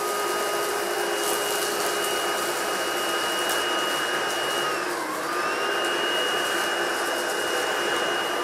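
An Ecovacs Deebot Pro 930 robot vacuum sucks up debris with a loud, steady whirring drone that briefly dips in pitch partway through, then holds even, with no voices.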